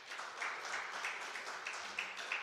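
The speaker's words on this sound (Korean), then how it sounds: "우리 박수 한번 하시죠" Applause from a church audience during a prayer-school gathering, a soft steady patter of clapping at moderate distance that holds evenly without a break.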